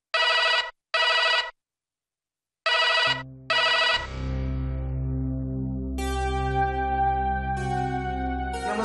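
Telephone ringing in a Marathi TV drama episode: four short electronic ring bursts, loud and close, then a tonal musical passage follows with no talk.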